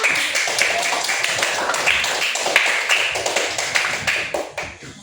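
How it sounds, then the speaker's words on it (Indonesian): Children in a classroom clapping their hands together, a quick, close patter of many claps that grows ragged and fades out near the end. "Tepuk tangan dulu untuk semua"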